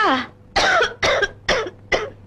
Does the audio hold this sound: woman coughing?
yes